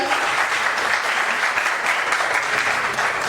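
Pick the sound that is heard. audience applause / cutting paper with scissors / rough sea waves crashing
audience applause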